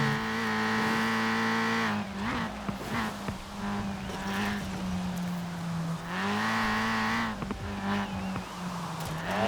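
A Ford Racing Puma in the racing game Forza Horizon 4 sliding into lift-off oversteer, its engine note loud and sustained, dipping and climbing as the revs shift, with tire scrub under the engine's drone.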